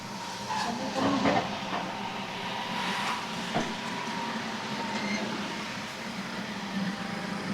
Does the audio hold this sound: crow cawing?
no